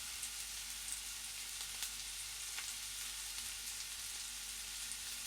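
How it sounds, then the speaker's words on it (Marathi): Chopped ripe tomato with onion sautés in hot oil in a pan, giving a soft, continuous sizzle with faint crackles and no talking. "टोमॅटो हे आपल्याला छान मऊ होईपर्यंत परतून घ्यायचा आहे"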